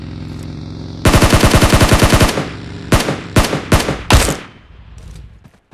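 Gunfire in the mobile battle-royale game BGMI (PUBG Mobile): a loud, rapid automatic burst of about a dozen rounds, a short pause, then four or five separate heavy shots close by, with no talking.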